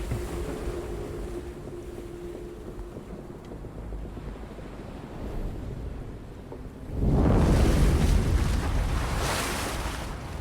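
In the video game The Room Two, wind and water wash steadily around a ship at sea, then a louder wave surges in and rushes on, with low creaking beneath.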